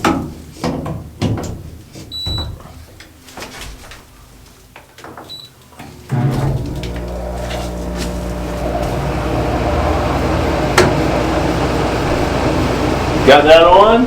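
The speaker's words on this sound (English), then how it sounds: "So our last step is to turn on the air conditioning unit." Window-style air conditioning unit for a shipping container cold room starting up: quiet handling and clicks, then a steady loud hum and fan roar kicks in and continues to the end.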